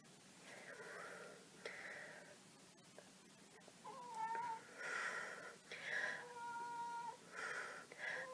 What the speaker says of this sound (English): I'm sorry, that is my cat.